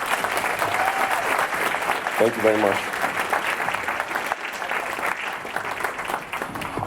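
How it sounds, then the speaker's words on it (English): Audience at a winter gala clapping for the caregivers being honored, a steady round of applause with a speaker's voice briefly heard over it. "So a round of applause for them."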